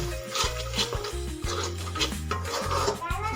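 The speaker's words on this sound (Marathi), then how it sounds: "सर्व मसाले आपण आता हे मिक्स करून घेऊ ग्रेव्हीमध्ये" A spoon scraping and stirring spices such as turmeric, onion-garlic masala and coriander powder into gravy in a pan for matar paneer, with close, steady rubbing and rasping strokes and no talk.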